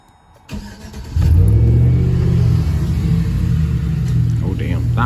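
A Chevrolet Silverado with a muffler delete fires up after a brief crank, then settles into a loud, deep, steady rumbling idle that carries on close by for several seconds.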